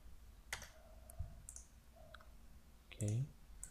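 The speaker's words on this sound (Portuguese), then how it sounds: "Dou dois cliques no componente e boto a etiqueta." Two quick computer mouse double-clicks on a component in pneumatics simulation software, small sharp ticks spaced apart in a quiet room, with a brief low thump and soft background noise.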